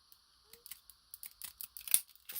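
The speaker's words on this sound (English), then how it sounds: "So we'll just go in with these scissors." Scissors cut through paper in a run of short, crisp snips, close and quiet, each cut a light clipped crunch, with no talking over them.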